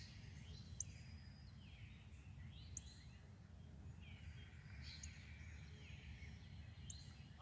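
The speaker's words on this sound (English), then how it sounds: "I just heard that bird a little." Outdoors in the morning, a bird sings several short, high chirping phrases spaced a second or two apart, faint and distant over a low steady background hum.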